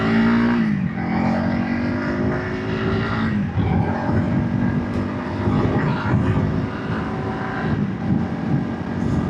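A 2025 Honda CRF300 Rally motorcycle ridden hard, its engine roaring loud and close throughout with repeated revving and shifts in pitch as it accelerates, no talking.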